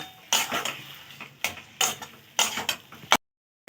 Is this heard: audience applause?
no